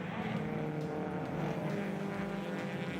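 A pack of historic race cars launches from a standing start and accelerates toward the first turn, a dense, continuous roar of several engines heard from a distance at low volume.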